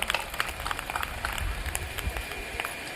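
A crowd at a public gathering in Kanpur's Buddha Park applauds to welcome a guest onto the stage, a dense patter of clapping from many hands at moderate distance with a low rumble underneath.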